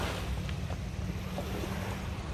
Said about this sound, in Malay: Kat belakang tu laut.